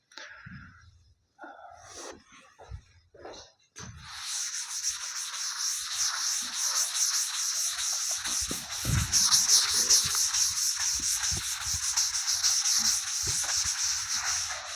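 Something is rubbed by hand with a steady, loud dry scraping that runs continuously for about ten seconds, after a few brief softer touches and knocks at the start.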